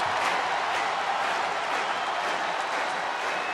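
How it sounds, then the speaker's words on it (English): A wrestling arena crowd roars for Joe Hendry's entrance in the WWE 2K26 video game, a dense, continuous wash of cheering and noise, loud and unbroken throughout. "The crowd becomes unglued every time this man makes an appearance."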